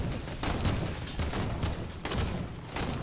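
Rapid bursts of gunfire from a video game shootout crackle loudly in quick repeated volleys, close and dense, with no voices over them.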